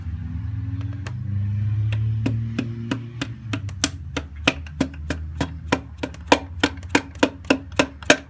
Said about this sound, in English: this is the third time we're going to try to seat this piston into the cylinder